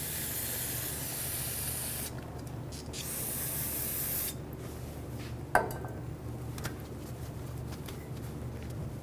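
Water sprays in a strong, steady hiss to rinse the rear brake parts of a 2009-2011 Ford F-150, stopping and starting a few times, with one sharp metallic knock partway through.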